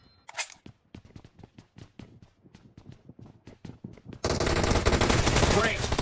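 An unsuppressed Groza assault rifle from PUBG Mobile fires a rapid burst of sharp, evenly spaced shots for about four seconds, then a loud, dense wash of noise takes over.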